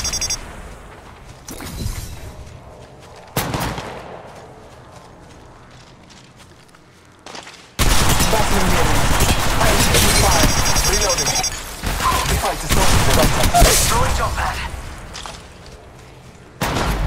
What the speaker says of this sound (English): Contact. I'm taking fire.